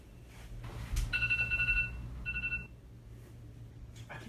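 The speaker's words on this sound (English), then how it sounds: "Is that my phone?" A phone rings with a pair of electronic tone bursts, faint against a low background hum in a quiet room.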